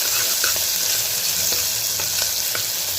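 Onions sauté in hot oil for a mutton fry, giving a loud, continuous sizzle close up. Faint scraping clicks from stirring recur every half second or so, and no voices are heard.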